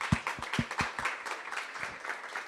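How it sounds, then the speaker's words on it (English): An audience applauds participants at the end of a startup pitch-off at the Yale Miller Prize, with scattered, fairly faint clapping in a loose uneven rhythm. "Another warm round of applause for everyone who pitched today."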